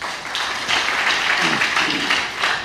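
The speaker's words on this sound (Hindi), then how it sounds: "सबके लिए ताली बजाओ" Audience applause at a religious talk, a short burst of many hands clapping together at moderate loudness, with no speech over it.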